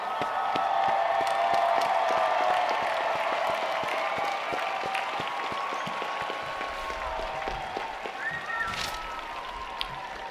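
Graduating master's degree candidates at a Georgia Tech fall commencement cheer and applaud, a dense and steady roar of clapping and crowd noise with occasional whoops, spread through a large hall and fading slightly toward the end.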